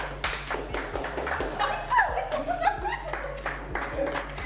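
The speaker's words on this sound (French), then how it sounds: "Applaudissez-les." A group applauds a team during an elimination round of a filmmaking competition, the scattered claps mixed with chatter and laughter.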